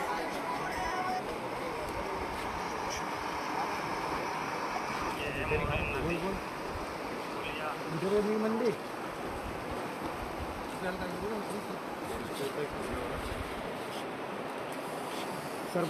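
A swollen, flooded river near Batoda pours past with a constant roar and surf-like rush, mixed with wind buffeting the microphone, while voices talk faintly in the background.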